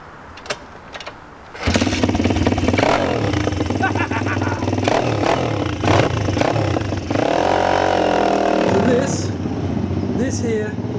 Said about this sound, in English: get on the bike and ride over some pallets